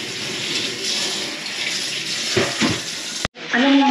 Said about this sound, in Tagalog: Nilagyan po ito ng tubig.